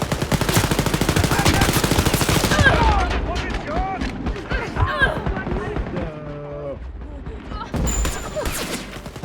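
Heavy gunfire from a big gun in the video game Wolfenstein Youngblood: a loud, rapid burst of repeated shots for the first few seconds, then game sounds and voices talking over a busier background.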